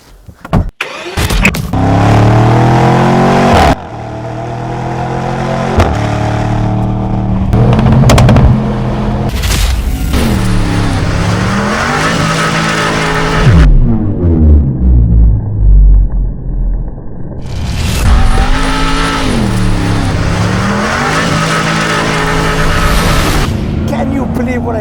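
A Bentley Bentayga Speed luxury SUV drifts, its engine revving and roaring loudly in repeated rising and falling sweeps, with tire noise and short pauses between bursts, close and dominant throughout.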